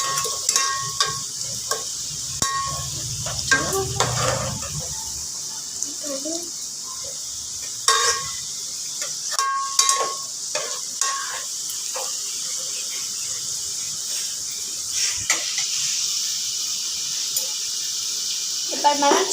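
Marinated chicken sizzling in a hot pan as it is stirred, a steady hiss with intermittent scraping of the spoon, close by, with occasional talk over it.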